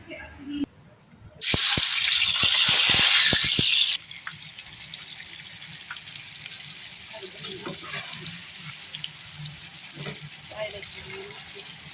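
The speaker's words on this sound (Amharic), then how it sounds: "ውሃ ጥጃለሁ ለሩዝ" Water poured into a pot for cooking rice in a home kitchen where chicken is cooking, a loud rushing gush for about two seconds, then quieter kitchen clatter and light sizzling, with talk mixed in.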